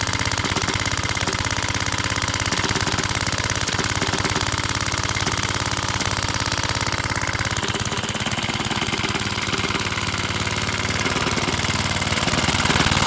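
A vintage Cooper PT 1.3hp four-stroke stationary engine runs steadily close up, a loud, continuous rapid thumping chug that holds an even rhythm throughout with no voices.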